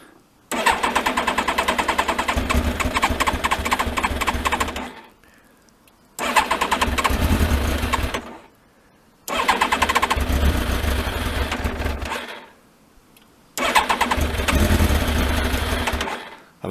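A motorcycle that has sat unused for a month or two is cranked by its starter in four long, loud, close bursts, each a steady whirring churn of several seconds, separated by short pauses.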